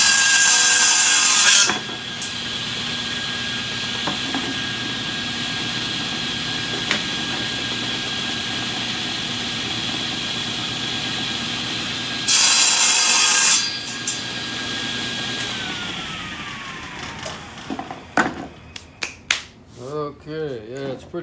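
Solid white oak barrel pieces being cut with a power saw: two loud, close bursts of saw whine with a steady drone between them, followed by scraping and handling sounds at the end.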